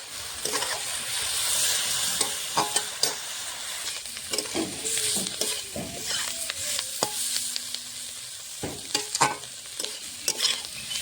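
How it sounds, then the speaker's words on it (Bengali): Vegetables frying with salt and turmeric for fried rice with onion greens, a steady sizzle broken by repeated scraping and stirring strokes of a spatula, close and fairly loud, no talking. "সবজিটা ভালো করে ভেজে নেবো"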